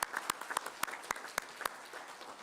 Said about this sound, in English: Another big round of applause to all 4 of them.